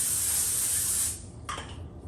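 One second-long burst of cooking spray hissing onto the bottom of a skillet pan, close and bright, then cutting off into quiet with a faint clink.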